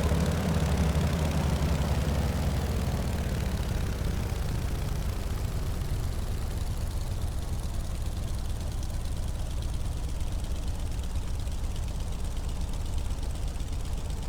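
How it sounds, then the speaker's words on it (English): Steady, loud idle of a Beechcraft 17 Staggerwing radial engine near 600 RPM in Microsoft Flight Simulator, a continuous low throbbing drone with no voices. "we're idling just above 600 RPM, which is very reasonable"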